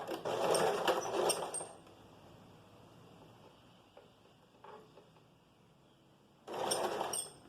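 A sewing machine stitches a fabric vest, running a loud burst of stitching, pausing briefly for a backstitch with faint clicks, then resuming with another strong run at the end.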